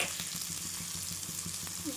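Coriander seeds and chutney ingredients roasting dry in a pan, giving a steady close sizzle with faint stirring scrapes throughout, no voices.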